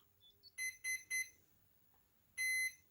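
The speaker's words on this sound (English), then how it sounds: "you probably heard the 3 beeps and then a long beep" Three short electronic beeps in quick succession from a VLV360 control system, a pause, then one longer beep, clear against a quiet background.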